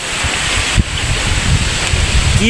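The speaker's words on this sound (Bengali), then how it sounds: "রকম বাতাস চলছে আমার শরীরের উপর কিন্তু ফোটা ফোটা পানি পড়ছে" Strong wind gusting across an open farm ahead of a nor'wester storm, a loud continuous rushing roar buffeting close to the microphone, with no talk.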